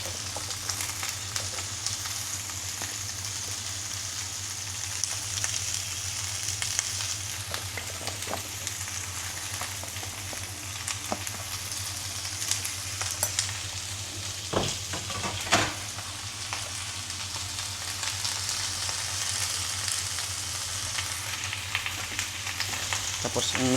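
Chayote being stir-fried and mixed in a pan, a continuous soft sizzle with scattered scraping and stirring clicks throughout, no talking.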